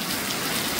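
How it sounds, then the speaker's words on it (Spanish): Steady rain falls in the countryside, a dense, even hiss of drops on surfaces, close and continuous with no voices. "Aquí en el campo, que está lloviendo"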